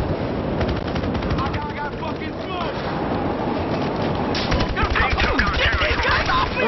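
Rapid gunfire bursts in Battlefield Hardline, fairly loud and dense throughout, with scattered shots over a rumbling game background and several voices talking over the action.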